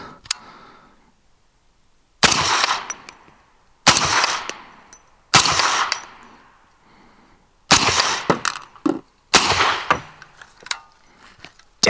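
A .458 SOCOM rifle fired round after round outdoors, six loud close cracks at uneven intervals, each followed by a metallic action cycle and a decaying tail.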